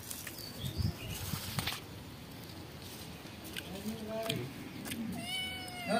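A pet cat meows a few times outdoors over a noisy background, with brief chirpy calls and people talking nearby.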